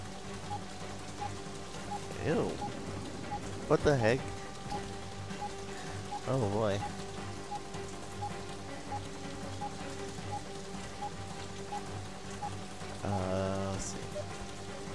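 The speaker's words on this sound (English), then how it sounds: "Look at this rain. You can see the definition of this rain." Rain falls steadily in the video game Vampire Rain, a soft continuous hiss running under a man's occasional spoken remarks and exclamations.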